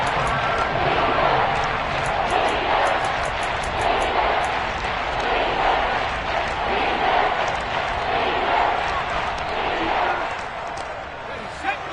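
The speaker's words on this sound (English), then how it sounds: "The crowd getting into it as we come up on a big 3rd down." Stadium crowd in a Madden football video game roars steadily throughout, a dense, loud wash of cheering that swells slightly before a big third down, with commentary talk running over it.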